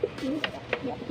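Pigeon softly cooing in a few low, throaty phrases just before being let go for flight, close to the microphone with a faint background.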